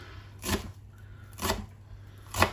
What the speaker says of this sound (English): So we want to roughly chop the coriander.